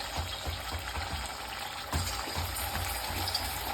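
Fasting vadas frying in hot oil, a soft continuous sizzle with faint bubbling and occasional small pops, quiet and close, with no voices over it.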